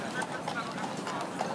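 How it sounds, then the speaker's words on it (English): A horse's hooves clip-clop on a New York City street in December, a rhythmic series of nearby hoof strikes with voices talking over them. "A horse."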